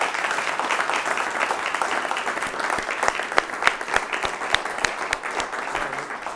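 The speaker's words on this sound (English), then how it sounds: "let's have everyone who came out tonight give Christopher Holshek a round of applause" An audience gives a sustained round of applause at the close of a talk by a retired colonel, Christopher Holshek, on the United Nations: many hands clapping in a dense, even patter, with a few sharper claps standing out near the front.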